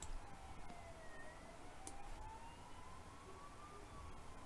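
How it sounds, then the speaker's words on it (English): Ambulance sirens wail through the streets of Budapest, a faint, distant rising and falling tone over a constant wash of city noise. "The endless crying of the ambulances in Budapest, Hungary here."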